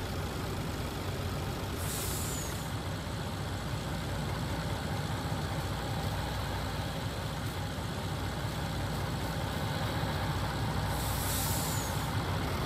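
Wrecker tow trucks strain to pull a backhoe in Farming Simulator 19, a steady heavy diesel drone filling the scene, with two sharp hissing air brake releases near the start and the end.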